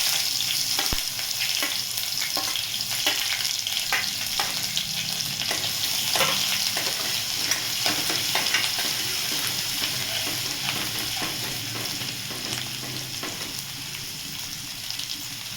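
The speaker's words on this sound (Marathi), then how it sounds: "तेल छान गरम झाले, त्याच्यामध्ये अद्रक लसूणची पेस्ट" Ginger garlic paste sizzles in hot oil in a pan, a steady broadband fry that runs the full length, with scattered crackles and the scrape of stirring throughout, loud and close, no voices.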